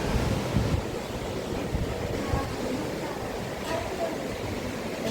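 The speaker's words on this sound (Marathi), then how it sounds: "आणि आपलं सुंदरसं समुद्र." Sea waves wash in a continuous, even roar of surf on the Konkan coast, with wind noise mixed in and no clear breaks.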